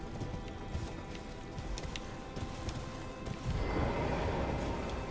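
A horse's hooves clip-clop at a steady trot in the video game Elden Ring, a quick rhythmic patter that grows a little louder and denser toward the end.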